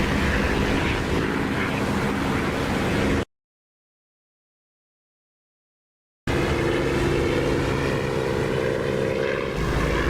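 A Spitfire aircraft engine in the combat flight simulator DCS drones loud and steady, cutting out to silence for about three seconds partway through and then resuming at full strength.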